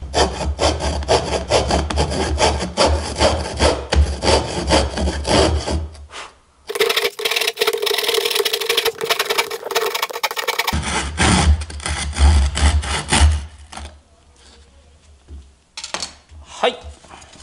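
A small hand saw cuts a curved shape in wood for a cat food tray, producing close, rasping back-and-forth strokes that pause midway for a different steady noise, then resume before tapering off.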